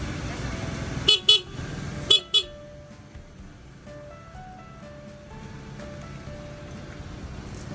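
Two pairs of short, bright horn honks from a classic motorcycle sound close by, beeping twice and then twice again, followed by quieter background noise and faint chiming tones.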